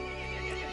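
A horse gives a short, loud neigh in the Resident Evil 8 video game, a single close whinny under half a second long.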